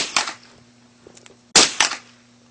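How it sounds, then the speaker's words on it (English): A rifle fires twice, about a second and a half apart, each shot a sharp close crack with a short echo. A low steady hum runs underneath and no one talks. "JD's shooting his first gun. No, his first rifle."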